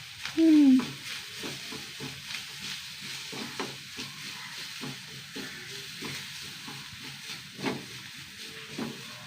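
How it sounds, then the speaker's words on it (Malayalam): Grated coconut roasts in oil, a continuous close sizzle and hiss with regular soft scraping strokes of a spoon turning it in the pan. "വല്ലാണ്ട് വറുത്തെടുക്കണം"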